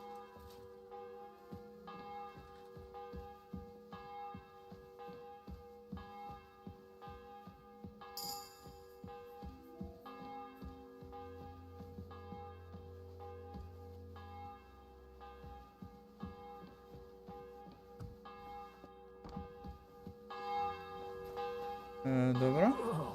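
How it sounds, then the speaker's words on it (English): A church bell in Kingdom Come: Deliverance II tolls in a slow, even series of strikes, each ringing out and decaying under game music, with a brief voice and louder tones near the close. "the bell's ringing for Hans the 5th time"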